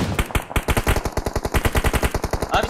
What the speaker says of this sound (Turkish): Oy fena sıkıyorlar.